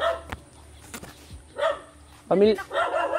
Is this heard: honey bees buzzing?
no